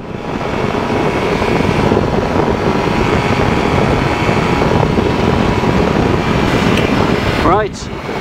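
A single-seat SSDR microlight's engine runs at full take-off power, a loud steady drone that holds throughout, with a voice talking over it.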